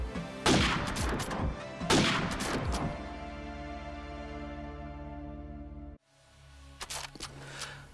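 Gunfire spamming through walls in Call of Duty 4 ProMod on the Citystreets map, two loud bursts of rapid shots with a lingering ringing tail, then a cut and a few more quick shots.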